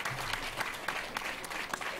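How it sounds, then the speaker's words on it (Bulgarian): A crowd in the video game Bad Dream Coma claps steadily, a dense patter of applause with rhythmic peaks, moderately close and continuous throughout. "И защо пляскат всички"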